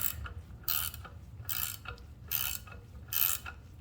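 A ratchet loosens a nut on a valve during a 5.3 engine rebuild, giving four short, crisp ratcheting bursts spaced about a second apart, close and fairly loud over a low background hum.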